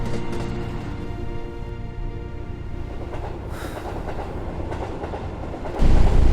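A train running on rails with a loud, close, steady rumble and rhythmic clickety-clack of the wheels, no voices, swelling into a heavier roar in the final moments.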